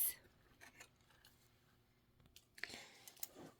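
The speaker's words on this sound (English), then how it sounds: "So I'm going to go ahead and just cut the edges off of this." Scissors trimming the edges off quilting fabric, a series of soft close snips and crisp cuts, faint and intermittent, with a louder run of cuts near the end.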